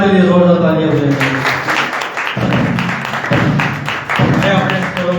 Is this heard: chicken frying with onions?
no